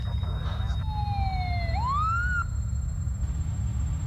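An ambulance siren in a televised public service announcement wails in one rising, falling and rising sweep, clear and fairly close over a constant low hum before fading out.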